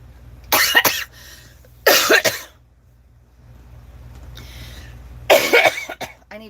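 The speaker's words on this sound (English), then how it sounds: "I need to stop coughing with my head." Three harsh, explosive coughs from one person, close and loud, coming in separate bursts with a quiet gap between the second and third.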